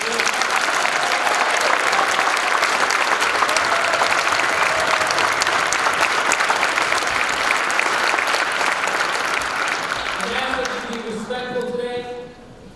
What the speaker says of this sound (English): give a round of applause to the candidates